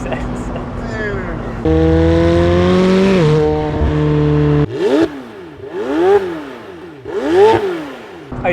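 McLaren 720S Spider sports car engine, first a held rev, then a run of rising and falling revs that swell loud and close, with some excited vocal reactions mixed in.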